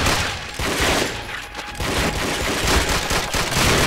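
Dense, loud automatic gunfire from a World War II shooter, Call of Duty: Finest Hour, crackling in an unbroken fusillade with a brief dip midway before resuming at full intensity.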